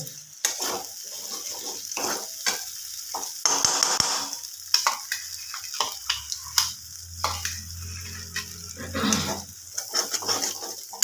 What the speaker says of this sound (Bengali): কাজু আর আমর বাদাম তো সেই পেস্টটা এখানে দিয়ে দেব